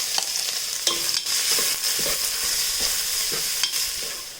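Chopped onions sautéing in hot oil in a pan, a close crackling sizzle broken by several scraping strokes of a spoon stirring, with no voices.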